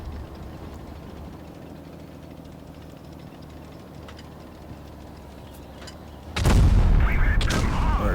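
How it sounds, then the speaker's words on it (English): Tank cannon fire in World of Tanks Blitz: a low engine rumble gives way to a sudden loud boom near the end, followed by crackling impact noise. "Gets a nice shot there in the side."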